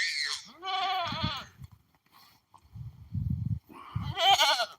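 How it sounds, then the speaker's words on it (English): Loud goat bleats and screams, several in a row with short pauses, close by and uninterrupted by talk. "And this one goat, she likes to scream, I guess."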